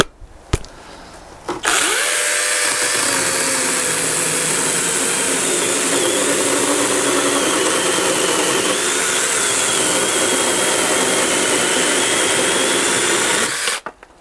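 ORBLON battery mini chainsaw cutting a 5.5 by 2.5 inch frozen timber: a loud, steady high-pitched motor whine with the chain buzzing through wood for about twelve seconds, starting and stopping abruptly.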